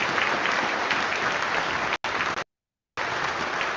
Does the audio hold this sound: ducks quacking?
no